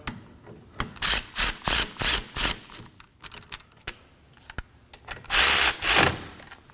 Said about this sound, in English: now we're gonna torque them to 23 foot-pounds